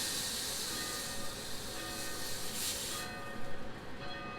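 Steak searing hard in a hot pan, a loud, steady broadband sizzle and hiss running throughout with no talk.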